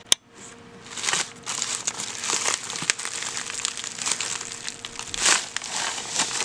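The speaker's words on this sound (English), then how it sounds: "So I noticed that she bubble wrapped the slimes together." Bubble wrap wrapped around a parcel of slime containers crinkles and crackles close up as it is handled and pulled open, in uneven bursts with a sharp tap at the start.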